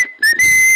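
Sharp, loud high-pitched whistle, blown in two bursts: a short blast, a brief break, then a longer sustained tone, clear and close with no speech.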